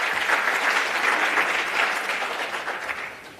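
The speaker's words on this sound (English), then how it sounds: "A round of applause for Flavia as she takes over." Audience at an international conference gives a round of applause, a dense wash of clapping from a sizeable room that holds steady and then gradually fades out over a few seconds.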